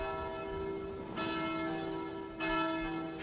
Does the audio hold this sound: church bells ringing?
yes